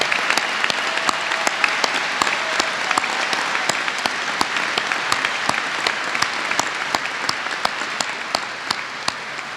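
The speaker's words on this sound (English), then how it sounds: "Let's give them a round of applause." A large crowd at a commencement ceremony applauds mentors, a long, even roar of clapping with sharp individual claps popping out close by, continuing steadily throughout with no talking.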